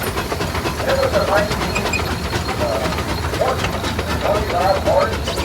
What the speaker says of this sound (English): 1925 Russel steam engine.